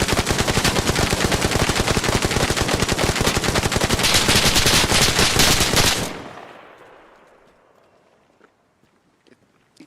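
Sustained machine gun fire on a military training range, a dense rapid burst of loud shots for about six seconds, then ringing echoes fading out with a few faint scattered sounds.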